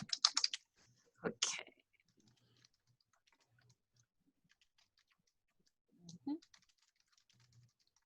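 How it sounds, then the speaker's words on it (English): Fast bursts of computer keyboard typing, close and fairly crisp, with short gaps between runs of keystrokes and a brief voice in between. "I'll type it for you."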